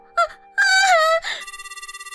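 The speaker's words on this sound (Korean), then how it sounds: "전화가 왔네." A telephone rings in a Korean radio drama. A rapid, warbling electronic ring pulses loudly close by after a woman's wailing, moaning voice.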